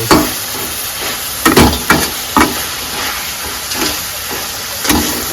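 Cauliflower curry with turmeric being stir-fried in a pan, a steady sizzle broken by several sharp scraping stirs of a spoon, close and moderately loud with no talking.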